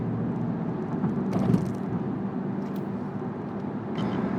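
Low engine rumble from a 2020 Volkswagen Jetta GLI with a 7-speed automatic on the autobahn, heard from the cabin as a steady bassy drone vibrating through the windshield, with a faint brief swell near the middle.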